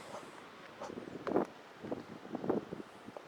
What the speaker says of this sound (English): Alright, it's windy.